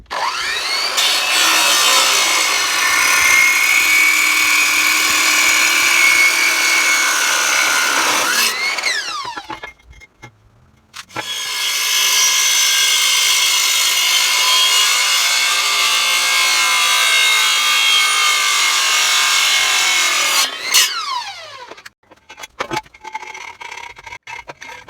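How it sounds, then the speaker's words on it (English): A pipe being sawn through in two long bursts of steady back-and-forth cutting, loud and close, with a short pause between strokes and scattered clanks after each run; no one speaks. "I'm going to go ahead and cut off that pipe."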